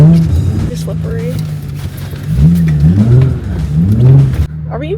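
Nissan 350Z revving and sliding on snow, the engine rising and falling in pitch over several seconds, close and loud, with people talking excitedly inside the car.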